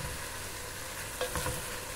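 Yakisoba noodles with ginger sizzle in a hot pan, and a couple of quick scraping stirs stand out briefly over a steady frying hiss; no talking.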